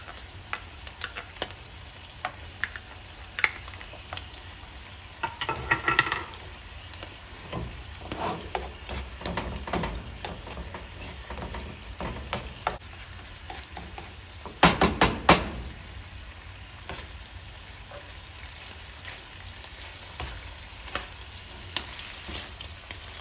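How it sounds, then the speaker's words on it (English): Garlic and ginger sauteing in a pan beside pushed-aside tofu and shiitake mushrooms, a steady low sizzle broken by stirring scrapes and a few louder clatters of the utensil, with no talking. "I will saute the ginger and the garlic"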